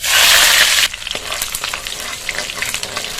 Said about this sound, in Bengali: রসুনটা 1 মিনিট ভেজে নিয়েছি।